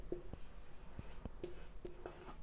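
Chalk or marker writing out differential equations in symbolic form during a B.Sc. mathematics lecture, heard as scattered short taps and scratchy strokes with brief pauses between them, close and fairly quiet, with no talking.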